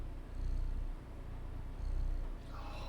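A resting cat purrs in the video game Stray, a steady close rumbling purr that swells and eases in slow, regular breaths with no talking.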